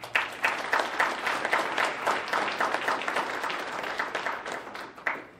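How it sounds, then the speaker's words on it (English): An audience at the 20th annual MLK celebration in Conway, Arkansas claps in a dense, sustained round of applause lasting about five seconds, loud and close, with no talk over it. "So give yourselves a round of applause for that."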